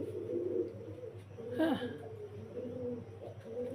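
Fancy pigeons at a pigeon farm coo softly in the background, with a brief louder call near the middle, while a voice says a single short word.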